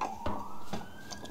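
Emergency vehicle siren wailing somewhere in a residential neighborhood, faint and distant, its tone sliding slowly upward in a brief snatch.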